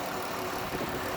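A 2017 Dodge Caravan SE Plus wheelchair van's 3.6-liter V6 idles under the open hood, a steady close-up engine hum with no talking over it.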